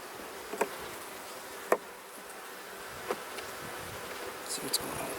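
Honey bees at an open beehive during a brood box inspection: a faint, steady buzzing hum throughout, with a few soft clicks and taps close by.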